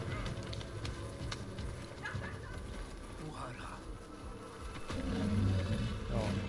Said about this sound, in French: quand je t'envoie les abeilles tu pleures